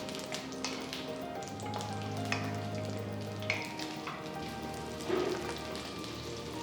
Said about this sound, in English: I'm just roasting the onions till they are partially cooked.